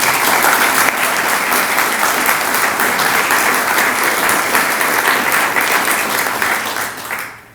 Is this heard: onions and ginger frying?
no